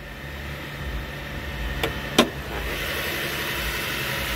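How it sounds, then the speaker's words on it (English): Car with a 2.7 engine idling under an open hood with a ticking noise, a low steady rumble close by with a couple of sharp clicks partway through. "ticking noise. Let me see what's under this hood"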